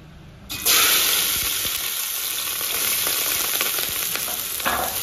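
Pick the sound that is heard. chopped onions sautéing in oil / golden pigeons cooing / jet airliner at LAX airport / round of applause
chopped onions sautéing in oil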